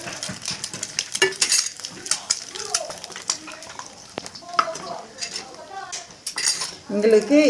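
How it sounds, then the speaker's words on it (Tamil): Beaten eggs get tossed through cooked rice in a pan for spicy egg rice: clinking utensil strikes against the pan and scraping stirs over a light sizzle, with a voice talking over parts of it. "இதை வந்து நல்லா இது மாதிரி பிரட்டி விட்டுருங்க."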